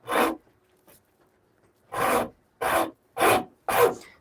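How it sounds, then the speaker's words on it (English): Wood rasp shaping a shillelagh stick, five coarse scraping strokes in short bursts with pauses between, close and loud with no talking. "This rasp, it really does just get through this material at a really fantastic rate."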